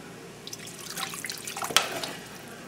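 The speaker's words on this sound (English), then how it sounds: "we're going to put a little bit of more water." Water splashes and trickles into a pot of pork and rice for a couple of seconds, close by and fairly loud, with no one talking.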